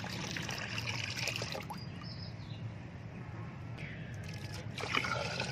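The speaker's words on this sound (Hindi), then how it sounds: "ये वाले 2 मग लेके मैं 10 लीटर पानी में डाल के तो अपने तमाम प्लांट्स को दूंगी" Water pours and trickles as two mugs of organic plant fertilizer are added to about 10 litres of water, a steady close splashing and dribbling that runs through the whole stretch with a faint bird in the background.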